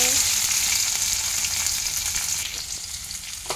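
Chopped onions sizzling loudly in hot mustard oil in a kadai for a curry, a dense steady frying hiss that eases slightly toward the end.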